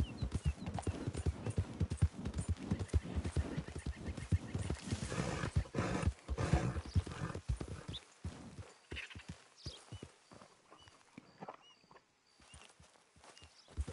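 Horse hooves clip-clop in a fast, steady galloping rhythm in the video game Red Dead Redemption, close and prominent, slowing and thinning out toward the end.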